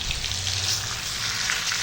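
Masala sizzles in hot oil in an iron pan, a dense, steady crackling hiss held at close range with no voices over it.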